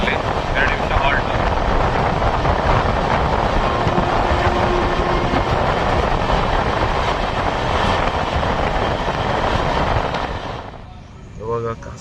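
The Amrit Bharat Express, on its inaugural Nagercoil to Mangalore run, rumbles loudly along the rails near Kasaragod with a steady roar, easing off toward the end.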